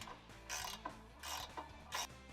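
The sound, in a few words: ratchet tightening 14mm bolts on 4Runner crash bar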